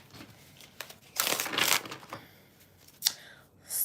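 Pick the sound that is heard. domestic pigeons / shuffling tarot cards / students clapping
shuffling tarot cards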